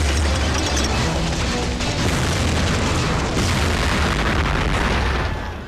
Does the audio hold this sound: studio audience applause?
no